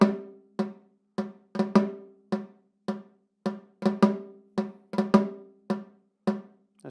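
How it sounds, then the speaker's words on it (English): A snare drum plays a slow solo passage that opens on a flam pickup note, about twenty crisp, close strokes with some flams and grace notes, each ringing briefly before the next in an uneven rudimental rhythm. "So it's going to sound like this. My pickup note's going to be a flam."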